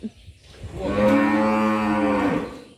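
Cattle in a flooded pen let out one long, loud, close moo lasting about two seconds, with a few quieter rustles and stirrings before it.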